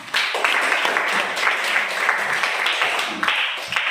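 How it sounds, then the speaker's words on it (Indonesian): Schoolchildren in a science classroom clap together for their teacher, a lively burst of close, uneven hand claps running throughout with brief accented peaks. "Tepuk tangan yang meriah, nak"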